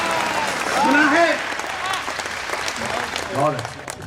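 An audience claps and applauds at a Hindi poetry show, a sustained burst of clapping that swells and fades while a voice speaks over it.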